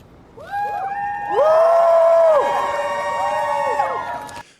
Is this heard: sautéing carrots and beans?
no